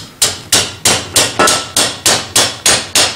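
A flat body hammer strikes metal on an anvil to take out a dent, in a steady, even rhythm, about ten sharp ringing blows close up, each decaying quickly before the next.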